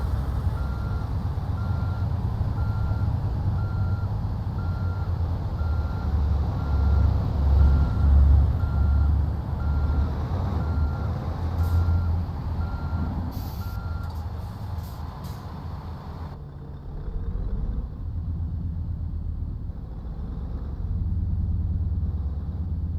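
A heavy truck in Euro Truck Simulator 2 sounds steady, repeating reversing beeps over a constant low engine drone, the beeping continuing loud and close for most of the stretch before the engine hum carries on alone.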